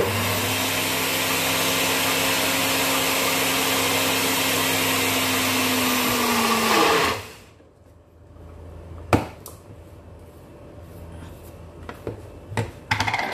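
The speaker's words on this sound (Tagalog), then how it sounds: "Takpan natin at i-blend ulit." A blender runs steadily for about seven seconds, whirring loud and continuous as it purees hummus with calamansi and lemon, then cuts off, leaving scattered clicks and clatter.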